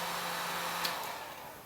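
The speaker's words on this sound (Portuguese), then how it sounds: "Aqui eu vou utilizar um soprador, mas quem tiver secador também pode utilizar." A heat gun blows hot air to dry paint on an MDF piece, a steady close rushing whoosh with a faint motor whine that holds constant throughout.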